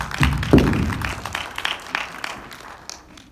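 Teachers applauding at a school safety talk for parents: a brief, scattered patter of clapping that peaks early and then thins out and fades over a few seconds.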